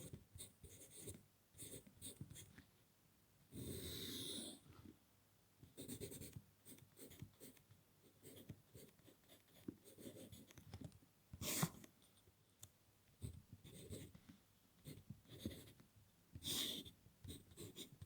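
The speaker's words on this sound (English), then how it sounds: "Okay, let's write down." A pencil scratches across paper in close, quiet strokes, with short bursts of scribbling separated by pauses and soft breathing, the longest line drawn around four seconds in.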